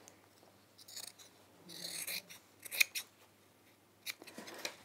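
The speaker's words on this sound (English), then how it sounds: "I'm just going to trim off this seam." Scissors trim a fabric seam in short bursts of snipping and crisp cutting, with a sharp click near the middle. The sound is fairly faint and close, with quiet pauses between cuts and no talking.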